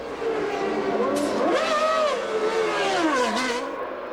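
Several 1997 Formula 1 cars accelerate out of the pit lane, high engine whines sweeping up and down in pitch as they pass, loud and fairly close, with a faint voice briefly underneath.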